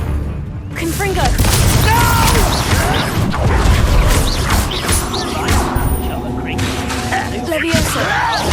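Confringo spell explosion in the Hogwarts Legacy video game, a loud booming blast set in a dense, continuous wash of combat noise, with crashing and mechanical clatter running throughout and speech-like game audio mixed in.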